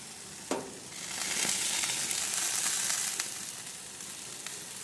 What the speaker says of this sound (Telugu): కొన్ని చికెన్ ఇంకా ఫ్రై అవ్వాలి